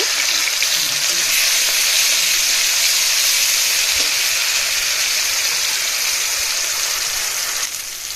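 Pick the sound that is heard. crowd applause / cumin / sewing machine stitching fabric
cumin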